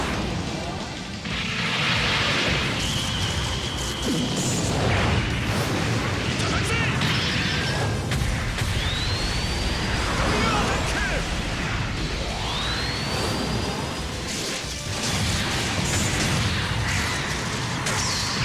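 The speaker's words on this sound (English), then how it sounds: "I love the missiles." Missiles explode one after another in the Super Robot Wars 30 video game, a dense, loud barrage of blasts and whooshing streaks, with a voice talking over the noise.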